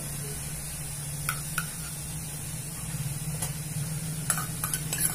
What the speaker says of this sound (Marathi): आता हा मिरचीचा ठेचा बारीक केलेला आहे तो टाकतोय